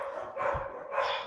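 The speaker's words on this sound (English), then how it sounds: "Dogs are freaking out." Dogs bark in two short, muffled bursts in the background of a podcast recording, set against a noisy, washed-out backdrop.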